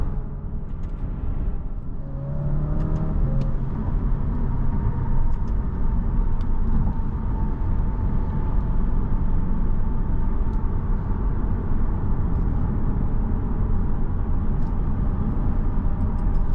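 A 2018 Alfa Romeo Giulia Ti Sport engine roars steadily from inside the cabin, with a rising rev near the start and a constant deep rumble after.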